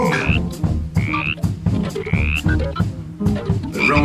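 Repeated frog croaks sound as a storybook effect about a witch's spell turning everyone into frogs, several rhythmic croaks with rising chirps, close and clear, no talking.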